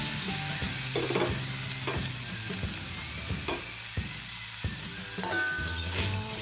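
Fried shirataki rice noodles sizzling steadily in a pan while a spatula stirs and scrapes, with repeated close knocks and clinks against the metal over continuous frying.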